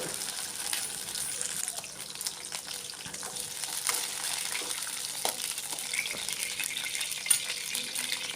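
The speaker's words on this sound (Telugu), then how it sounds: "ముందుగా పచ్చిమిర్చి వేసుకొని దూరగా వేయించుకోవాలి ఫ్రై చేసుకోవాలి ఇవి ఫ్రై అయ్యేటప్పుడే రెండు లేదా మూడు రెమ్మలు కరివేపాకు వేసుకోవాలి" Green chillies and curry leaves frying in oil in a pan, with a steady close sizzle and scattered pops and light utensil clicks throughout.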